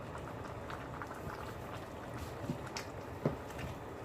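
A pot of hearty Italian cabbage sausage soup simmers quietly on the stove, a faint steady bubbling hiss with an occasional soft pop, heard alone without talk.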